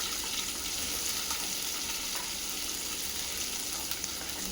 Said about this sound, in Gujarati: હવે આને આપણે સાતળવા દઈશું થોડી વાર.